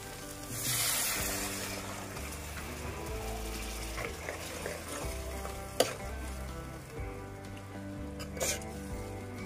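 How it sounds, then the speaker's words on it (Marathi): Gram-leaf curry masala cooking in a pan after water is added, a soft continuous sizzle with a spoon stirring and occasional light scrapes and clinks, faint and alone. "आता यामध्ये थोडंसं पाणी ऍड करून घेऊया।"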